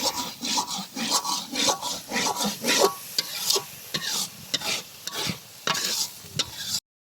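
Nuts are stirred and sautéed in a pot for biryani, with a spoon scraping in rough repeated strokes over a soft sizzle, close and fairly loud, before the sound cuts off.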